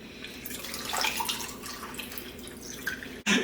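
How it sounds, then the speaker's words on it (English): Liquid trickles and splashes as it is poured, with light dripping sounds, ending in a brief sharp clink of glass. "we're gonna pour that into the glass"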